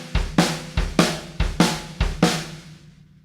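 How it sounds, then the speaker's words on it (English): Snare and bass drum on a drum kit play a shuffle-feel pattern alone, five evenly spaced loud hits with ringing decay that fades out at the end. "if we isolate the snare and the bass drum, it takes on that shuffle sort of rhythm"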